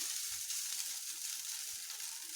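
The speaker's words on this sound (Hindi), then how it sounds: "अब इसमें हम ये पोहा डाल देंगे, इसको अच्छे से चला दीजिए" Poha being stir-fried in a pan with onion and green chili gives a faint, steady hiss, broken by a couple of soft thumps from the stirring.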